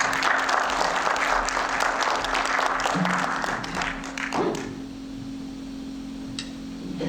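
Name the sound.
audience applause at a masterclass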